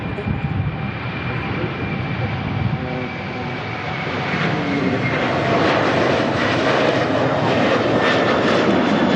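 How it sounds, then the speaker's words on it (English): Aer Lingus UK Airbus A330 airliner passing, a broad steady engine roar that builds slightly as it goes by, heard at a distance from a plane-spotting position. "Here we go, Aer Lingus UK A330"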